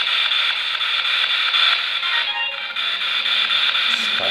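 A spirit box radio sweeps through stations during a ghost hunt at a haunted sanatorium, giving off a continuous loud hiss of static broken by short choppy fragments as it scans, with no clear talking.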